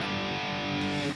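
A single sustained distorted electric guitar power chord rings out loud and steady for about a second, then cuts off abruptly.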